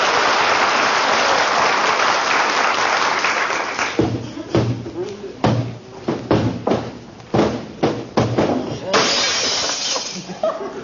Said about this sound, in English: I was just cleaning the mirror in the hall, kiddo. Slipped out of my hand.